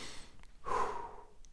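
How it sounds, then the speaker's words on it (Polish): A single deep breath drawn in and let out, close and soft, with a short inhale followed by a longer breathy exhale that fades quietly. "zatrzymuję się, oddycham głęboko"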